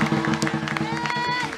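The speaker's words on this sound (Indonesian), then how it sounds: "Tepukan lu dong buat Sukma." An audience claps for a volunteer named Sukma at a live soundpainting performance, a steady patter of hands with crowd murmur and a few whoops throughout.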